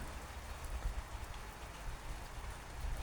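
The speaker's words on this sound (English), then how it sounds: "It's gonna rain. You can hear it coming." Rain begins falling during a thunderstorm, a steady, dense hiss of drops on surfaces heard throughout without pause, moderately loud and evenly spread.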